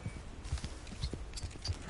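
In the Red Dead Online video game, a horse gallops through a tricky area, its hooves thudding in an irregular rhythm beneath a dense wash of game noise.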